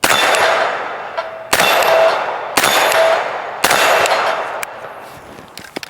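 AR15 rifle with a Swamp Fox Raider optic firing at a steel popper hostage target outdoors: four loud, evenly spaced shots, each followed by a ringing metallic clang, then quieter faint ticks.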